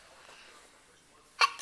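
Two sharp sneezes in quick succession at the end, close and loud after a stretch of near silence.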